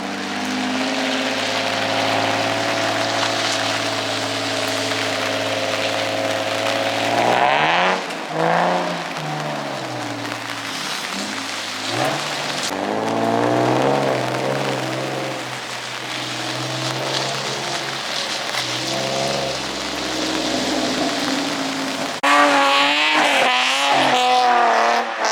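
Nissan 350Z drifting on a track, its engine revving hard and rising through gears with tire squeal, then spinning out as the revs drop and climb again, loud and close with no talk.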